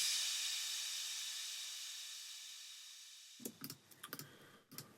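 Short and ambient crash cymbal samples from a drum mix struck together, one bright splashy hit with a long reverberant tail fading out over several seconds, followed by a string of soft mouse or keyboard clicks.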